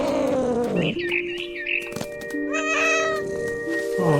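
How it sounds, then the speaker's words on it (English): Cat meows in the game What Remains of Edith Finch, several loud, close meows and drawn-out caterwauling cries with rising and falling pitch, standing out over soft game music. "Oh, you're playing a cat."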